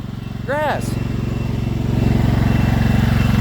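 A tractor stuck on grass keeps its engine running in a loud, steady, throbbing chug close by, with a short whistle-like sweep cutting in briefly near the start.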